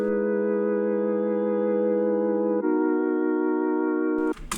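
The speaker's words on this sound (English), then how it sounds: "And then we also have these wobbly sine chords." Sustained wobbly sine-wave synth chords from the Serum synthesizer, for a trap beat, holding two long chords back to back, steady and loud, with a brief cut and clatter at the end and no talking.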